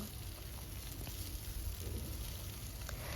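Ivy gourd (kundru) frying lightly in a little mustard oil in a wok, giving a steady, faint hiss and sizzle throughout with no talking.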